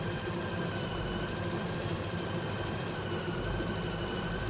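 An embroidery machine stitches a large design on a Christmas stocking with a steady mechanical hum and a fast, even vibrating rattle. The sound is continuous and fairly quiet, with no voices.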